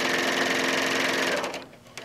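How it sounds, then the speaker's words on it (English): A serger overlock machine runs steadily as it stitches and trims fabric, a close, buzzy mechanical whir that holds for over a second and then winds down, with a brief final burst. "Now, because I'm doing this as a traditional serger and I'm trimming stuff off"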